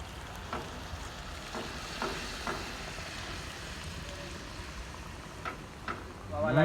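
Peas tipped into a frying masala for sev usal, a soft steady sizzle with occasional light stirring scrapes and clicks close by, faint overall and without talk.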